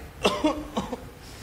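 Two short, close coughs come one after the other, each a sharp burst with a rough tail, followed by quiet.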